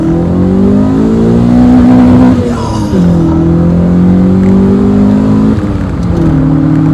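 A Rover 416 GTi engine revs hard to the rev limiter, loud and close, holding high revs, dropping briefly and climbing back again in repeated surges.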